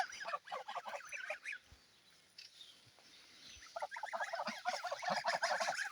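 A flock of geese honks and chatters in overlapping bursts, quieting briefly in the middle before building up again.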